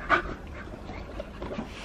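Tired pet dogs pant softly indoors, quick quiet breaths that carry on steadily through the short stretch with no voices, heard close up.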